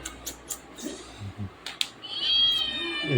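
A small kitten meows several times in short, close cries, then lets out a longer drawn-out mew at the end, with quiet household background around it.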